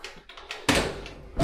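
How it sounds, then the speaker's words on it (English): The door of a commercial glasswasher with a closing fault springs open with a sudden loud clunk and rattle, after a few softer knocks and handling noises. "So the door won't stay shut, as you can see here. It's springing itself open."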